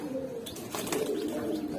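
Low, murmuring coos of giribaz and racer pigeons fill a loft, with a soft flutter in the middle.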